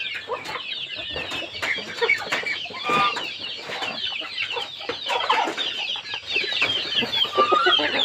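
Bangkok fighting chickens cluck steadily on a dry-ground poultry farm, many birds overlapping in a dense, continuous chatter with occasional wing flaps and no talk.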